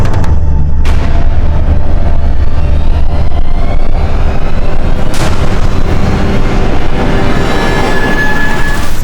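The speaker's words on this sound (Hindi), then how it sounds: "सर, उस तरफ से गोली चली थी।" Two loud, sharp gunshots crack out several seconds apart over a heavy, rumbling background noise.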